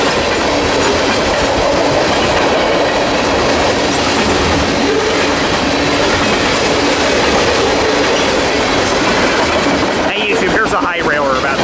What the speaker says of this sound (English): Normally I hate this train, but I think I can make an exception today.